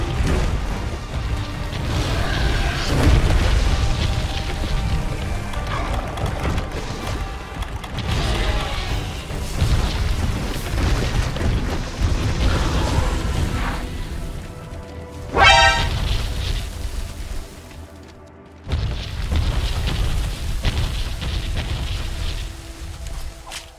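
Booming explosions from the monster Brachydios in Monster Hunter World: Iceborne, loud low blasts and crashing rumbles rolling throughout, broken by a sharp rising burst and a sudden cutoff near the end.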